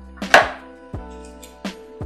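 Knife chopping broccoli on a cutting board for boiling, three distinct sharp chops spaced evenly apart, close and clear with no talking.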